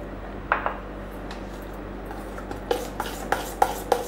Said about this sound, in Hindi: इसमें 2 चम्मच दूध डाल देंगे और अच्छे से मिक्स कर लेंगे